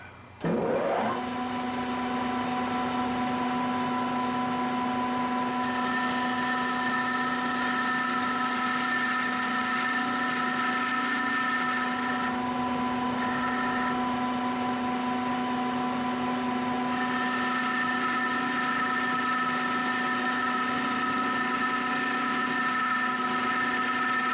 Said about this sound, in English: we'll try and get a drill motor out here and see if we can get a smooth turning so that the finish is nice